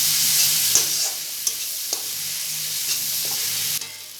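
Spices stir-fried in a pan for a fish curry give off a bright, steady hiss, broken by a few sharp scrapes and taps of a spatula; no voices.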